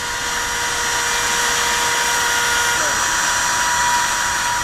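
A wood router shaves excess from a carved heart design, giving a steady, loud high-pitched whine with a continuous grinding hiss that holds nearly unchanged throughout.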